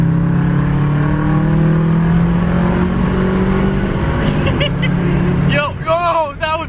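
A JDM Honda Legend pulls hard from a rolling 60, its engine note climbing steadily in pitch, loud and close from inside the car, before easing off as excited voices break in near the end.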